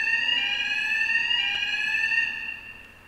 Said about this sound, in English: the sound alerts are similar to spy eraser and spyware isolator